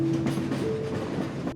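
A Trans-Siberian Railway train runs steadily along the rails, a loud continuous rumble with a sustained tonal whine layered over the rolling noise, with no voices.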